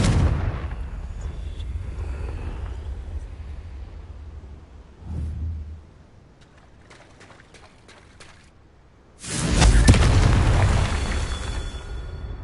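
Confringo fire-blast spell explosions in the video game Hogwarts Legacy, a loud rumbling burst trailing off, a shorter thud, quiet clicks, then another heavy booming blast, no talking.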